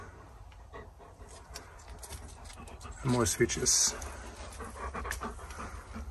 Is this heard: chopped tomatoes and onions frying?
no